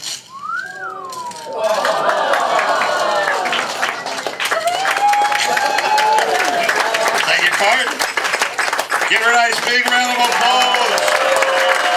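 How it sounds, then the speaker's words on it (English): An audience at the Magic Castle applauds two volunteers at a 2018 magic show, with loud sustained clapping and whistles rising after a brief pause, while someone talks over the noise. "My two volunteers a round of applause."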